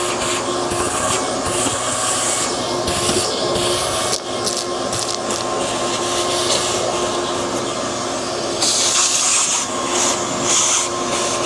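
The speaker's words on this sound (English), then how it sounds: "The first thing I do is vacuum, then I'm going to change the direction for the shop vac here so that it actually blows" A shop vac runs continuously as it vacuums dust from the honeycomb bed of a laser cutter, a loud steady motor whine with airy suction hiss and occasional rubbing scrapes, no talking.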